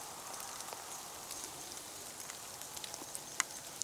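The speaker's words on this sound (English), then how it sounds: "I'm getting a lot of rain on my camera lens." Steady rain patters on a camera lens, with scattered sharper drops tapping close by; no voices.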